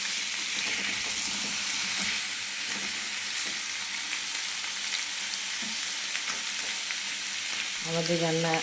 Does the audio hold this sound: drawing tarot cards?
no